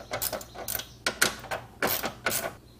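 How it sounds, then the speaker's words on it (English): Short bursts of a 10mm socket ratchet clicking while loosening radiator plate bolts on a Ford Mustang, about six quick separate ratcheting strokes, close and clear. "So grab a 10mm socket and remove these 2 bolts."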